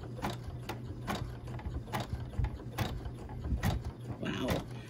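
An embroidery machine stitches the final outline in black thread on a rope coaster at reduced speed, a fast rhythmic mechanical clatter of ticking needle strikes over a low motor hum.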